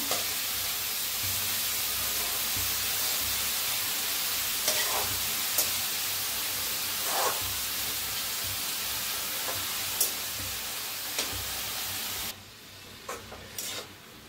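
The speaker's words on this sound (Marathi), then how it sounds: "आता ह्याला बी फिरवून घेऊया भाजीला छान असं" Chopped dill greens frying and being stirred in an open pan, a continuous close sizzle with occasional scraping and clinks of the spoon, quieter toward the end.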